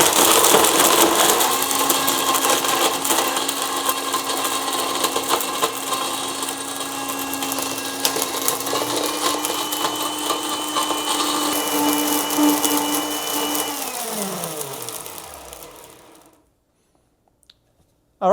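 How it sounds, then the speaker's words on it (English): Blendtec blender pulverising leftover turkey bones into bone meal, a loud continuous grinding roar with rattling crunches that holds steady, then winds down and stops near the end. "we're gonna see if turkey bones will blend."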